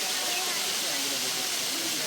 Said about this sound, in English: Got the beautiful water just cascading down into this rock pool